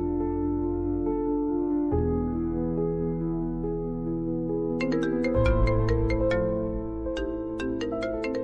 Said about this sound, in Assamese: ফোন আহিছে তোৰ?